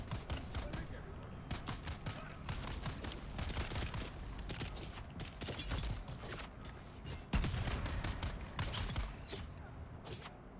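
An automatic gun turret fires in the Dune Awakening video game, giving rapid, irregular bursts of sharp cracks and clatter that come in dense clusters with brief gaps, loud and close throughout.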